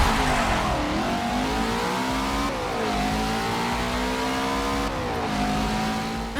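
A Mustang GT350R engine in the Forza Motorsport video game, in its older sound version, revs hard and climbs in pitch through two quick gear changes, loud and close with a raspy drone.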